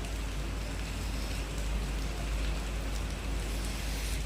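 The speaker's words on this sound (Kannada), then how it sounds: "ಮಳೆ ಬರ್ತಾ ಇದೆ. ಪರವಾಗಿಲ್ಲ, ಸುಮಾರಾಗಿ ಬೀಳ್ತಾ ಇದೆ" Rain falls outdoors at a moderate rate, a soft, even, continuous hiss of drops with no talking over it.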